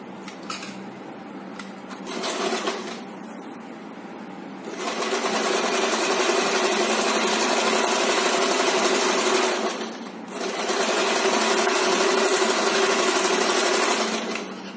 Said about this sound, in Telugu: డబుల్ స్టిచ్ చేస్తున్నానండి.